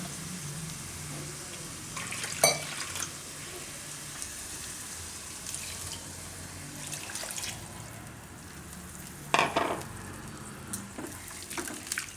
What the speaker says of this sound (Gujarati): આ 2 વાટકી ભરીને નાખીશું પાણી.